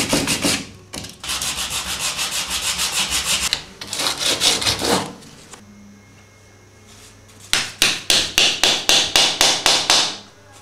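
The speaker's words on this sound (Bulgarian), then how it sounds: "Сега може с шкурка допълнително да махнем основата на боята." Sandpaper rubs old paint base off a window frame in repeated rhythmic strokes, loud and close: a long scrubbing run, a pause, then a clear burst of quick back-and-forth passes, with no voices.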